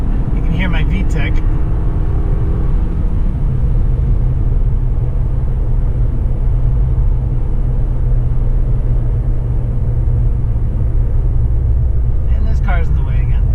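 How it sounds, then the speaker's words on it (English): A Honda Accord engine with VTEC pulls in fourth gear on the Autobahn, a steady loud drone and road rumble inside the cabin throughout, with someone talking over it. "That's fourth gear. You can hear my v-tec."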